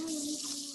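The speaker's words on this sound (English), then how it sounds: "So first things first, I'm gonna wash my hands." Running tap water while washing hands before mixing a mocktail, a brief steady hissing stream with a faint tonal hum, close by.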